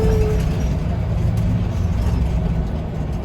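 City bus in Marseille rumbling loudly with a steady low engine drone and traffic noise, close by, no talk.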